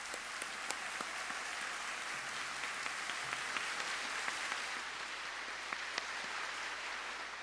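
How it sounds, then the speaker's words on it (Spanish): Steady crowd applause from a large audience welcoming a pastor at a church event in Daejeon, heard fairly distant and soft, with a few sharper individual claps standing out. "lo estaremos recibiendo con un fuerte aplauso"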